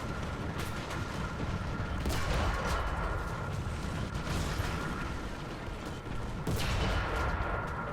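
Tank battle gunfire in War Thunder around a Russian T-80 light tank: dense, continuous rumbling cannon and machine-gun fire with several sharp, loud shots cracking through the steady roar.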